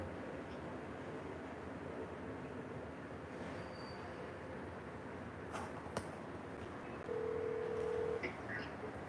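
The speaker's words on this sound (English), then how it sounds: "I'm calling back right now." A phone line tone plays while a call is placed back: a single steady electronic tone lasting about a second near the end, over low background noise.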